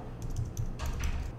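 A computer keyboard clatters as code is typed, a quick run of light, close key clicks in uneven bursts with no voice.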